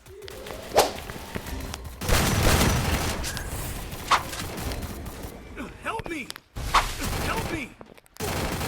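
Free Fire video game gunfire crackles in sharp bursts and single cracks with whooshing effects, while a player talks over the action.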